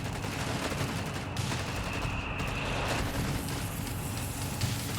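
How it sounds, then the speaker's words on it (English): Late-fuse mortar bomb exploding in Company of Heroes 3 amid ongoing battle noise, dense rumbling blasts and gunfire continuous over the whole stretch. "Another late fuse mortar bomb there."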